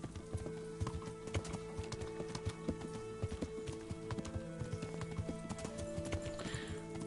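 Horse hooves clip-clop steadily in the medieval game Kingdom Come: Deliverance, a brisk, even rhythm of moderate loudness running throughout over a low ambient bed.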